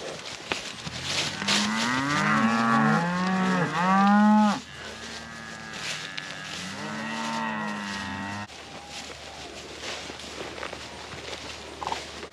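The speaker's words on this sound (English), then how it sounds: "Time to move the cows into the next paddock" Cattle moo repeatedly and loudly as the herd is moved into the next paddock of tall pasture, several long drawn-out calls overlapping near the start, then quieter scattered lowing and shuffling.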